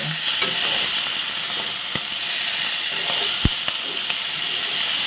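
Chillies stir-fried in a pan give a loud, steady sizzle and hiss, broken by scraping stirs and a couple of sharp utensil taps against the pan.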